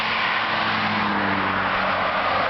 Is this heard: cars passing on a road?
yes